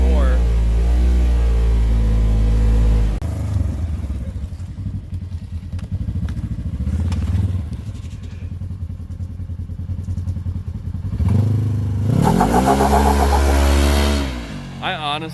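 A Polaris General UTV fitted with a clutch kit and tuned ECU accelerates hard in high range on 30-inch tires, its engine roaring loud and close with rising revs, while people talk over it at times.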